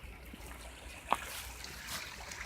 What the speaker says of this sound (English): Like these streams here.